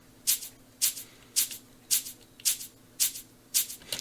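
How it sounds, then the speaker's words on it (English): A shaker sample in an electronic dance track drop, hitting on the offbeats with a 16th-note delay, giving eight evenly spaced crisp shakes, each trailing into a quick echo, fairly soft and alone. "Later in the drop, a shaker is introduced."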